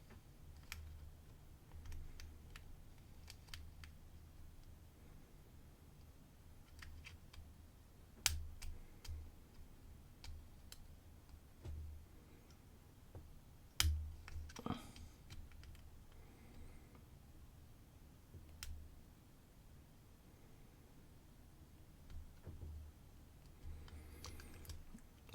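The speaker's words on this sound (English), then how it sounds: "It's going to go along and click anything which feels like it's" A lock pick clicks softly against the pins inside a lock keyway, making faint irregular ticks over a steady low hum, with a slightly louder scrape near the middle.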